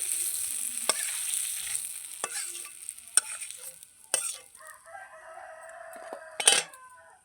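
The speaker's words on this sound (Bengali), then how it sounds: "আলুটা ভেজে নেব" Potatoes fry in oil in a pan, a steady sizzle with occasional clacks and scrapes of a utensil stirring them, and a rooster crows in the background in a home kitchen.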